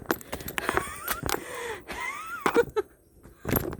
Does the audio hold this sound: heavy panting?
yes